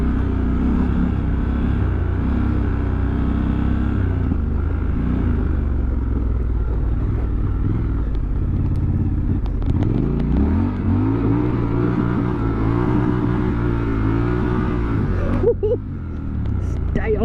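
A Triumph Scrambler 1200XE motorcycle rides off-road through sand, its engine droning steadily and then rising in pitch as the throttle is held on, with a rider talking over it.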